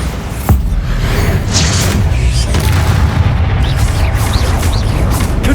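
Bombarda spell explosion in Hogwarts Legacy on PS5: a sharp, loud blast that rolls straight into a heavy, sustained roaring rumble lasting several seconds, close and dominant with no talk.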